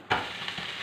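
Onions frying in oil for uttapam are stirred, a quick scrape of the spoon over a steady, close sizzle lasting under a second.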